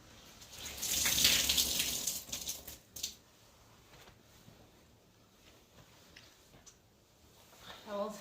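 Water splashes and drips heavily for a couple of seconds as a soaked cloth is squeezed, then scattered trickles and soft drips follow.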